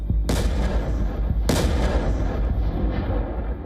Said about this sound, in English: Just a devastating blast that tears through trenches, bunkers and buildings, leaving behind a crater where a defensive position once stood